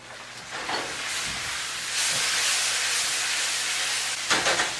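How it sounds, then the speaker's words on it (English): Potatoes and hash steam in a cast iron pan, a steady soft hiss with a few brief louder bursts of sizzle near the end, heard alone without talk. "So we've been steaming my potatoes and hash for about 20 minutes right now"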